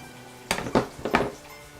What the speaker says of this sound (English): I've got some daikon, I've got my mandolin. I only need a few, right? So I'm gonna make some slices